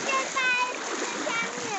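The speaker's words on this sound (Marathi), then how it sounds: "तर इथं पाण्यातून जर्नी स्टार्ट झालेली आहे आमची आणि या नदीतूनच आम्ही जाणार आहोत या टोकाला त्या टोकाला." Water splashing and rushing as people wade through a river near a village in Parbhani, Maharashtra. Close continuous sloshing with voices mixed in.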